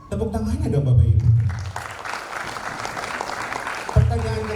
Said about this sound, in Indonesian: Tepuk tangannya dong Bapak Ibu.